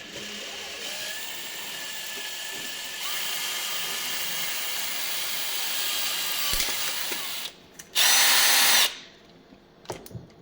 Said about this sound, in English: take your drill bit like this with your drill, line it up to the hole on the inside, and just start drilling.